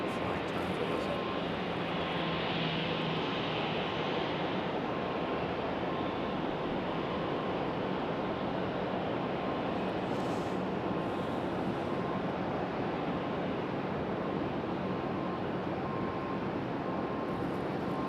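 An airliner arriving from Cincinnati at Raleigh-Durham International Airport produces a long, steady roar of jet engines mixed with wind noise on the microphone, holding at an even level without voices.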